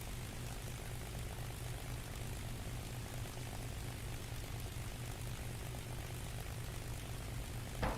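A propeller aircraft engine in a flight simulator game drones steadily and quietly at a constant pitch, with no talking over it.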